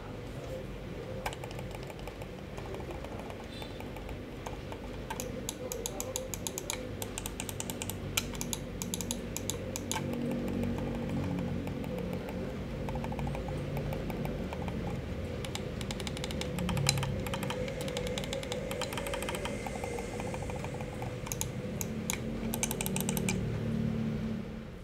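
Rapid, dense clicking from a Digital Alliance Rubix One ergonomic computer mouse, a steady stream of light, crisp taps that continues for the whole stretch, faint and close with no talking.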